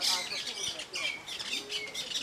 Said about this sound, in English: Little birds, little black ones.